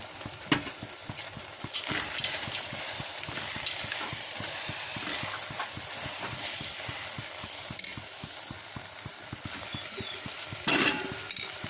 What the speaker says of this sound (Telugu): అడుగంటకుండా కలుపుతూ ఉంటే సరిపోతుంది. అలాగే శనగపప్పు కూడా వేసేస్తుంది.